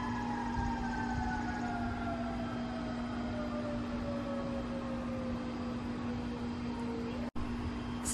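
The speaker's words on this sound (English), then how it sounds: "The weather sirens are going off." A distant outdoor weather warning siren wails steadily, its tone slowly falling, over a constant low hum and background noise.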